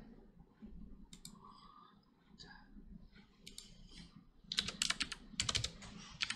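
Someone types on a computer keyboard while entering input into a React web app, the clicks sparse at first and then a dense burst of rapid keystrokes near the end over a low background hum.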